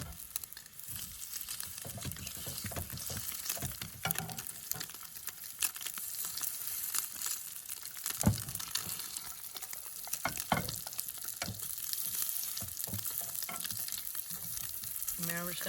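Crab cakes fry in a pan outdoors on New Year's Eve, a dense, continuous crackling sizzle with scattered sharp pops and spatters, close and fairly loud, with no talking.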